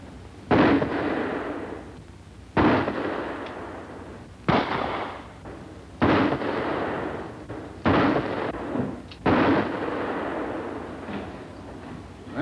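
Six pistol shots at target practice ring out one by one at roughly two-second intervals, each a sharp loud crack with a reverberant tail, no voices between them.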